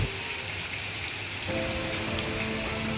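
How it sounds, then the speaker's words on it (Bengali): Heavy rain pours down in a dense, steady hiss at a hotel near Marina Beach, Chennai, with a faint tonal hum in the background. "অবশেষে হোটেলে ফিরতেই ঝুম বৃষ্টি"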